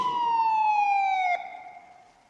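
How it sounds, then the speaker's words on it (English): A police car siren sounds alone as a single long, loud wailing tone that slides slowly downward and fades out at the end. "A police car came to the telephone box."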